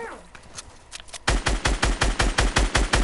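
Automatic gunfire in a video game shooter: after a quieter stretch, a loud burst of rapid, evenly spaced shots hammers away in a steady rhythm until the end.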